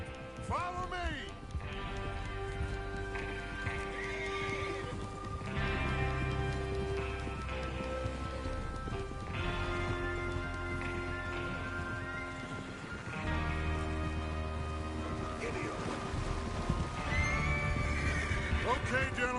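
Horses whinny and neigh in Red Dead Redemption 2 amid a busy, layered game soundscape with music and ambient noise, steady and fairly loud throughout.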